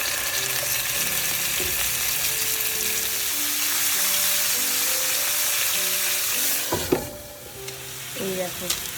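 Fish frying in a pan produces a dense, loud, steady sizzle that fades near the end, giving way to a few clattering knocks and handling sounds.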